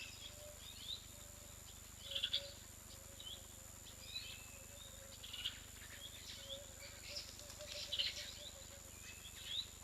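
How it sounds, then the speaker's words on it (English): Birds call softly in the distance at an African wildlife camera, with scattered chirps and brief calls over a faint, constant low hum and a steady background drone. "Here's some doves in the background."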